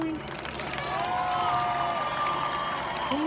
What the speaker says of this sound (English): can we get one more round of applause going?